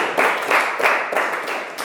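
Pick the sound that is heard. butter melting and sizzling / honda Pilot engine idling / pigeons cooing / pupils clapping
pupils clapping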